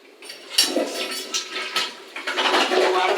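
A toilet flushes in an off-grid shipping container home, a close rushing surge of water that swells and gurgles over a few seconds, no voices.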